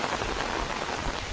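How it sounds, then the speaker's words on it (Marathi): Dense, steady hiss of heavy monsoon rain pouring down nearby in the countryside, continuous with no breaks or voices. "डेंजर पडता पाऊस बाहेर बघा जरी"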